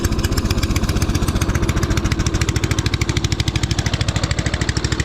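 An old, cheap tractor engine runs loud and close, throttle held open, its steady, fast chugging pulse thumping evenly throughout with no pauses.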